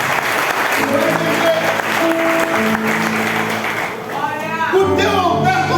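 Church congregation applauding during a Santa Ceia communion service, a loud sustained wash of clapping with music playing beneath it, and a voice speaking or singing near the end.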